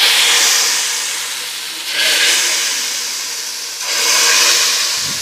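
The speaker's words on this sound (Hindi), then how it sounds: "ये घी बहुत गर्म होगा और आपने बहुत ही एहतियात से आपने ये तड़का लगाना है" Very hot ghee poured as a tadka over garam masala on haleem sizzles loudly in two close bursts, each swelling and fading as the fat hits the food.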